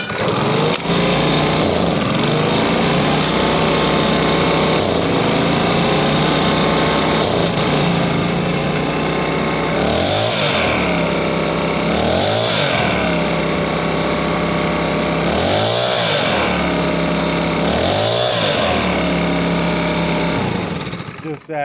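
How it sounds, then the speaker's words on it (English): A Makita BHX2500CA leaf blower engine runs loud and close during carburetor adjustment, a steady high whine with several sharp revs rising and falling as the throttle is blipped. "We're going to fire it up. I'm going to turn this counterclockwise just until it stops bogging."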